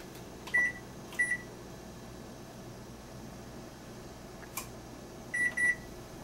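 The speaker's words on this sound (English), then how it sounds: "Let's set our timer." A kitchen oven timer is set while pretzels bake at 425 degrees, giving short electronic beeps in pairs from the keypad, spaced apart over a quiet steady fan hum.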